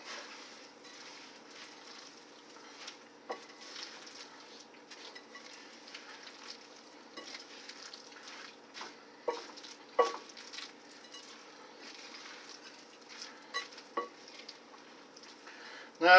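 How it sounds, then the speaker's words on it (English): Breadcrumbs being mixed into a homemade meatloaf mixture give soft, moist squelching and scraping with scattered clicks against the bowl, fairly quiet and continuous, no talking. "Mix this up."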